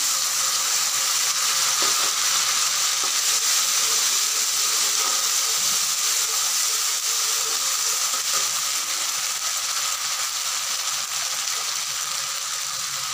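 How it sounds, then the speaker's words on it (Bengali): Chopped onion frying in hot oil for a Bengali aloo dum, a loud, continuous, even sizzle that holds steady with no talking. "একটু পেঁয়াজ কুচি দিয়ে দিচ্ছি।"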